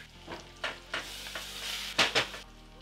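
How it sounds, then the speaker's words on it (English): Onions and garlic sauté in oil in a pan, a soft sizzle broken by several scraping stirs and a couple of sharper bursts near the end, with no talk. "oil, onions and start sauteing"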